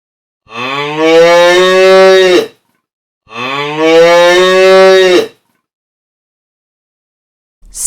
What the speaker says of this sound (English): It's a cow.